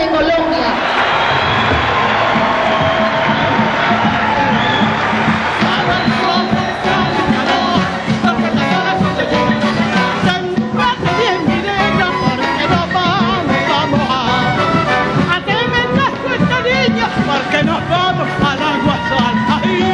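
A live audience of people from Colombia's Pacific coast applauds and cheers loudly to welcome a singer, a dense, steady roar of crowd noise with yells and music-like tones mixed in throughout.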